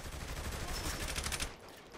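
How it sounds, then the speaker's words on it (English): Rapid automatic gunfire in the open-world action game Saints Row: The Third, a dense, continuous burst of overlapping shots that holds steady for about a second and a half and then eases off. "let's get out and just start shooting shit"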